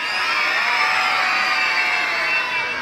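Children shout and cheer at a Santa's village Christmas event in Brusque, a dense, steady crowd roar with no breaks, filling the space close by.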